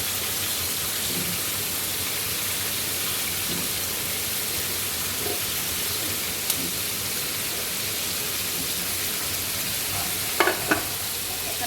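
Potatoes frying in a pan where meat has already been browned, a steady close sizzle with a few light scraping and clinking stirs near the end.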